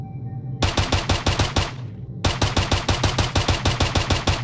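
Rapid automatic gunfire from an SMG in the video game PIGFACE, with two loud, tight bursts of evenly spaced shots split by a short pause and ringing decay.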